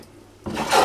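Wood being shaved and rasped down on a yew English longbow to take out saw marks; quiet at first, then a close, steady scraping rasp that grows louder toward the end.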